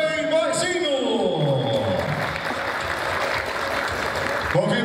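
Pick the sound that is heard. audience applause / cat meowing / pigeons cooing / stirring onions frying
audience applause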